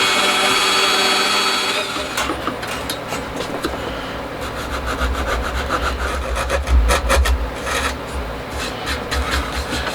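A small hand saw cuts through veneered wood along knife-scored lines, a steady rasping stroke rhythm running close and loud after a brief opening noise, with low thumps as the board shifts.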